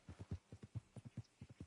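A horse's hooves clip-clop in a steady walking rhythm in the Red Dead Redemption 2 video game, each dull thud close and even, with no voices over them.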